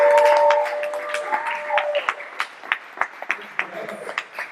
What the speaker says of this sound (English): Can we clap and make some noise?